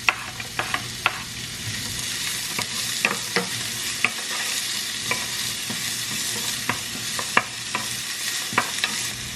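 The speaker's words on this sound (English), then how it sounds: "I'm gonna start by sauteing the onions." Onions sauteing in a little oil in a pan for baked ziti, a steady sizzle broken by frequent sharp clicks and scrapes of stirring, close and alone with no talk.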